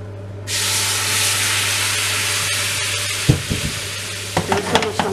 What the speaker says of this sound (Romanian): pun un pic de apă